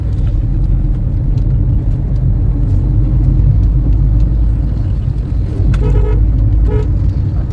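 A car driving along a road, heard from inside as a steady, loud engine and road rumble, with a couple of brief horn toots near the end.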